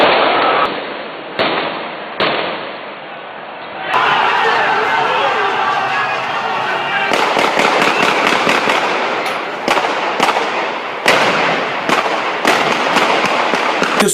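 Gunfire from lethal weapons cracks out during a street protest crackdown, with repeated sharp, loud shots in irregular bursts over a restless crowd and shouting voices.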